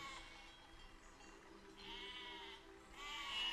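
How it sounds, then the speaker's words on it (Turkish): Sheep bleat in the video game Besiege, several overlapping calls rising in wavering bursts over a quiet background hum, fairly faint and without talk. "Koyunlar kaçılın. Bunlar da beni annesi mi sandı."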